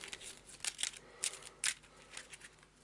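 A deck of board game cards is shuffled by hand in quick, crisp riffling bursts and soft slides, close and quiet with no talking.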